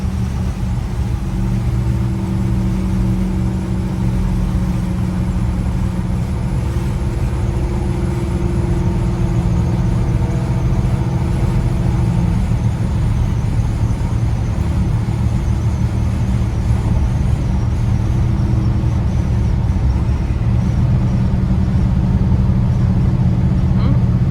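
Continuous engine drone from a 1965 Buick Riviera Gran Sport on the road, a heavy low hum holding steady with mild swells, no one talking.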